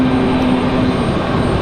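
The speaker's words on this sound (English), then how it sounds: "It's an ATR 72-600, 30 minutes of flight time from New Bern, not Wilmington." An ATR 72-600 turboprop airliner arriving from New Bern at Raleigh-Durham International gives a steady, loud engine drone with a distinct low propeller hum running throughout.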